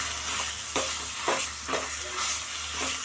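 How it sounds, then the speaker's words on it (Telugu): Wood apple chutney stirred into a hot asafoetida tempering in a pan, with a steady sizzle and several soft scraping strokes of a spoon at an uneven rhythm, close and moderately loud, with no talking. "పచ్చడి దీంట్లో వేసి కొంచెం ఇలాగే కలిపిస్తే బాగుంటుంది అన్నమాట"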